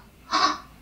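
A single crow caw rings out on its own, loud and clear. It is one short, harsh call of under half a second against a quiet background.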